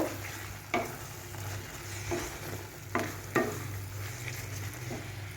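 Chopped egg being stirred into chicken bharta in a sizzling pan, a steady low frying hiss broken by a few sharp scrapes of the spoon, close and fairly quiet.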